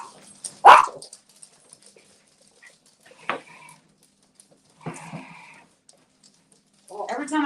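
Dogs bark as someone walks in, a sharp loud burst at the start followed by a few scattered shorter barks and yelps, with quiet gaps between.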